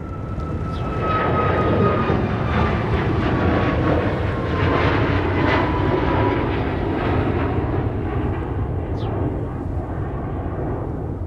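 A heavy jet airliner departs Minneapolis–St. Paul airport, its engines producing a loud, steady broadband roar that holds for about eleven seconds without a break and without any voices.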